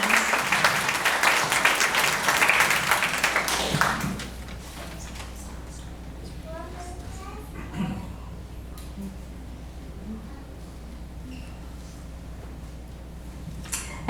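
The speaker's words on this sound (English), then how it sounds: "please give one more round of applause to all of our past winners and additional queens" A pageant audience claps for past winners and queens at a senior county pageant, a full burst of applause for about four seconds that then drops away to a quiet room with scattered small sounds.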